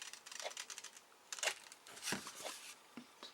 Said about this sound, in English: Now I just grab my scissors and I just round that corner a little bit.